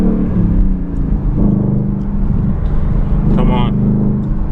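A 2020 Ford Mustang 5.0 V8 with a muffler delete, driving at night in second gear, a steady deep exhaust drone from inside the cabin while a voice talks over it.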